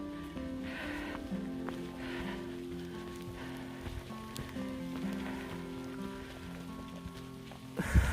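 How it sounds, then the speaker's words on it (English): Steady rain patters on surfaces, with a low hum and faint background noise throughout. "It's raining pretty good right now."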